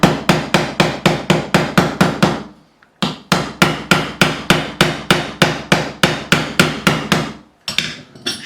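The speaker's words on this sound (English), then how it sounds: "I'm just going to take my fretting hammer and we're just going to tap this one in." A fretting hammer taps a fret into the fretboard of a Korean-made Fender Light Ash Telecaster during a refret, with loud, evenly spaced sharp knocks in quick runs of about a dozen, briefly pausing between bursts.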